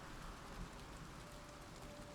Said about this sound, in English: this rain is just unforgiving